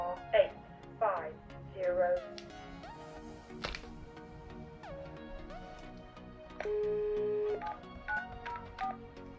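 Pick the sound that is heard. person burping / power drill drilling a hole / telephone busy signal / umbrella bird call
telephone busy signal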